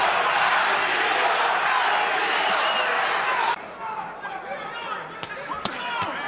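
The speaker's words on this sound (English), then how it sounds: "Crowd chanting Castillo, Castillo." A roaring boxing crowd at the 2005 Diego Corrales vs Jose Luis Castillo fight chants loudly and continuously, then drops abruptly partway through to a thinner arena murmur with scattered sharp sounds, while a commentator's voice talks over it.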